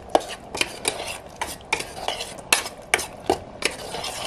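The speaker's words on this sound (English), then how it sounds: "So all I'm doing is adding it in and stirring it around, and that'll add a nice thickness to the sauce." A utensil stirs thickener into eggplant curry inside a stainless steel electric multi-cooker pot, giving a steady series of sharp metallic clinks and scrapes about every half second, close and clear with no talking.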